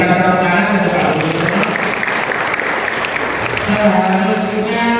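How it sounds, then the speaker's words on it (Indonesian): A local political gathering in Surabaya gives Pak Budi loud, continuous applause from a crowd, with a speaker's amplified voice talking over the clapping at the start and end. "kita berikan tepuk tangan untuk Pak Budi"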